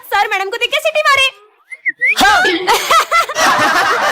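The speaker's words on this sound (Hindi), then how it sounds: "सर मैडम को देख के सीटी मारे।" A person whistles at a newly arrived female teacher in a classroom, with short bright whistle bursts following speech-like voices and laughter, all close and fairly loud.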